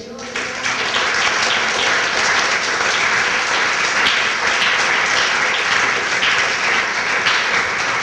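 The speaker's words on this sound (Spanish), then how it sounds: "Dele un aplauso al Señor." Church congregation applauding in a temple sanctuary, dense sustained clapping from many hands filling the room for several seconds, with a voice rising over it at the start.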